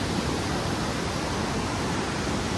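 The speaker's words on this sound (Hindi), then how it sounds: "इधर देखिए पानी" River water rushes through the open gates of the Koshi barrage in Nepal as a dense, loud, unbroken roar that fills the clip with no other sound.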